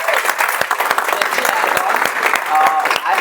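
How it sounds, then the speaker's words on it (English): A roomful of people at a Toastmasters meeting clapping together, a dense, sustained burst of applause heard close and loud from start to finish. "give yourselves a big round of applause"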